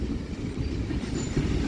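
A BNSF mixed freight train passes at Central Avenue with a steady, loud rumble of wheels and cars, a continuous low roar and faint metallic squeal throughout, no talking.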